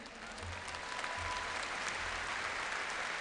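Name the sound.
audience applause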